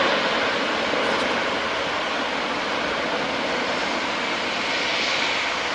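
An Airbus A380 airliner at the Farnborough Air Show, a steady loud broadband jet engine roar that holds at an even level throughout with no pauses.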